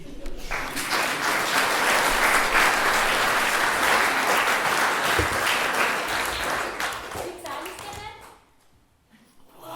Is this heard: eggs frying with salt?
no